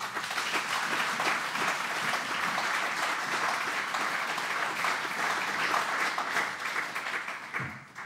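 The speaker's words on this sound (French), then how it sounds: "Acclamons le Seigneur." A church congregation applauding the Lord, sustained dense clapping from many hands filling the space and fading near the end.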